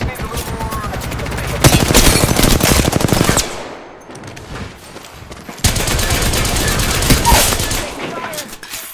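Rapid automatic gunfire in an Apex Legends firefight crackles in loud sustained bursts, pausing briefly before another long volley; a voice is audible alongside the shooting.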